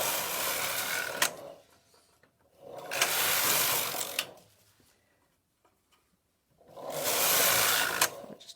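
A Silver Reed knitting machine carriage slides across the needle bed in three separate passes, each a loud whirring, clattering sweep ending in a sharp click, with quiet pauses between rows.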